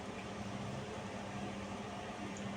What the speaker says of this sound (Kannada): ಈಗ ಫಸ್ಟ್ ಕರ್ಕೊಂಡಿರೋದನ್ನ ಮತ್ತೆ ಎಣ್ಣೆನಲ್ಲಿ ಹಾಕೊಳ್ತಾ ಇದ್ದೀನಿ